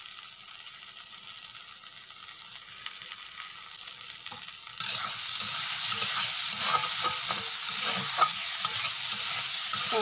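Vegetable curry with potatoes, onion greens and tomatoes is stirred as it fries in a pan, with a steady sizzle that grows louder and brighter halfway through, scraping spoon strokes audible over it and no talking.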